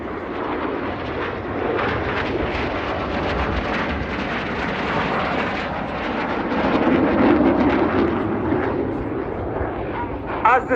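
Red Arrows jets roar through a flying display at an air show, a loud, sustained engine rush that swells toward the end while a commentator talks over it.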